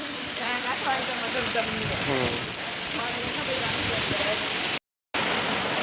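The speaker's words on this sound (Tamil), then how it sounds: "அழகா மழை பெய்யுதுங்க, செம்ம ஜாலியாக இருக்கு பார்க்கறதுக்கு." Steady rain falling outdoors, a broad continuous hiss with scattered drop patter that holds level throughout, with faint voices in the background.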